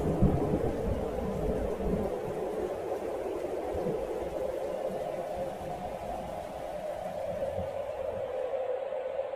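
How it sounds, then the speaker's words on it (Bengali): A cartoon thunderstorm in a Bengal village during the Kalbaishakhi storm season, with dense clouds and wind rising: a steady, loud wash of roaring wind and rumbling storm noise that continues without pause and fades slightly at the very end. "চারিদিকে ঘন মেঘ ছেয়ে গেছে, ঝড় উঠেছে"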